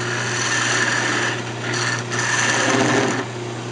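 Wood being turned on a lathe to shape the outside of a perfume bottle, a steady motor hum with continuous scraping of the cutting tool, briefly dipping twice as the cut eases off.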